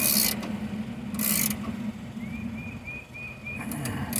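Metal ratcheting and thread-rubbing sounds from a spark plug thread chaser being worked back and forth in a cross-threaded cylinder head, a steady grinding mechanical texture with a few brief high squeaks near the end.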